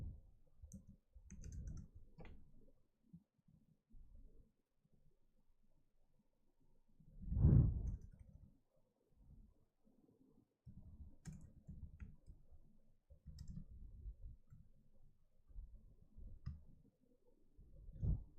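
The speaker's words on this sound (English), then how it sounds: "I'm just typing something real quick." Quick typing on a computer keyboard, soft irregular bursts of key clicks close by, separated by short pauses, with one louder thump midway.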